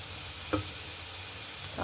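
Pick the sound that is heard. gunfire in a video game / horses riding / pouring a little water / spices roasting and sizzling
spices roasting and sizzling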